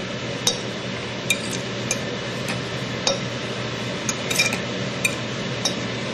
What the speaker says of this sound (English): So we'll just give it a good mix.